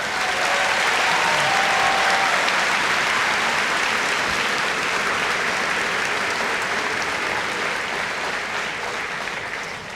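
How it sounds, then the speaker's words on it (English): A graduation audience at a Fenton High School Class of 2025 ceremony breaks into dense, sustained applause that stays loud and steady for the full stretch, tapering only slightly at the end. "Let's give all of them a round of applause,"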